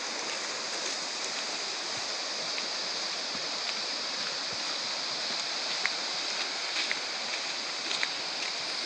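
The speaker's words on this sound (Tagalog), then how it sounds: "Rinig na po yung falls sa baba." A constant broadband rush of a distant waterfall, steady and even throughout, with no voices over it.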